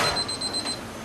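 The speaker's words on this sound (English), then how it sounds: "we got beeps going on." Kitchen oven timer gives a rapid run of short, high electronic beeps, evenly spaced and fairly clear, stopping after under a second.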